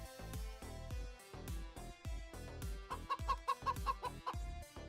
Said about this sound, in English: Now the chickens, if close enough, will alert the enemy AI when in their run state.